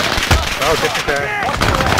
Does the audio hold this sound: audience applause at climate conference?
no